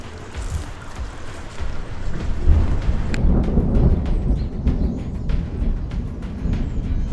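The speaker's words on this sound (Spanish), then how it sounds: "la lluvia decidió unirse a la fiesta" Rain and thunder on a dangerous hike along the Tarzan Hiking Route at the Panama Canal. Heavy rain hisses steadily and close, and a low rumble of thunder swells and lingers beneath it. No one speaks.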